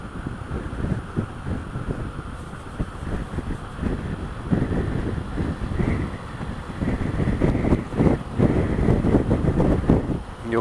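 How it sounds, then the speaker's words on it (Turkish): Wind buffeting a microphone outdoors during a motorcycle ride, a rough gusty rumble that swells and grows stronger toward the end. "Burası biraz daha sakin gibi sanki rüzgar."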